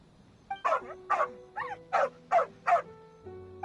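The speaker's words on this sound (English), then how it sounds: "there's a good dog. Calm down." A dog in the video game Genshin Impact gives a run of six short yips and barks in a steady rhythm, close and clear, with faint whimpering tones between them.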